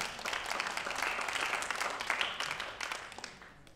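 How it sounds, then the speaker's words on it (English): An audience claps in a small room, a dense burst of applause that holds steady and then thins out toward the end. "Round of applause for that"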